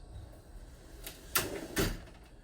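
A drawer on a hospital code cart being pulled open or pushed shut, two fairly sharp knocks in quick succession over quiet room tone.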